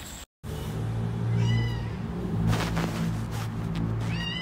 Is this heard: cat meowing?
yes